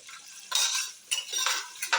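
Whole shallots frying in a pan for mutton head curry, heard as bursts of bright sizzling and metallic stirring scrapes in several uneven pulses, close by with no voices.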